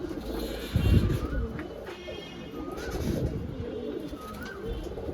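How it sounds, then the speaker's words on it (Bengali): Domestic flying pigeons, a pair of Murshidabad high-flyer birds, coo in repeated soft throaty phrases, close by, with several overlapping calls and no talk. "এটা খেলোয়াড় পয়রা, দুটোই খেলোয়াড়, খেলা উড়া গ্যারেন্টি।"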